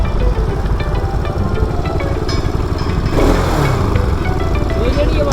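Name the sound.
ticking noise from Bajaj Pulsar RS200 motorcycle engine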